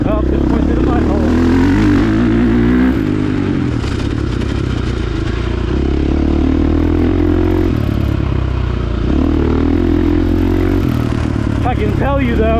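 A 2022 KTM 450 SX-F Factory Edition motocross bike rides a track, its engine droning loud and close with shifting revs and gear changes, heavy wind buffeting throughout, and a rider's voice over it.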